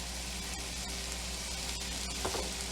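Mushrooms fry in oil in a pan with a steady, close sizzle and crackle, and a brief stirring scrape comes near the end.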